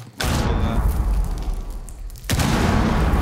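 A grenade blast in Rainbow Six Siege, a loud broadband boom at the start whose rumble sustains, then a second heavy burst near the end, with no voices over it.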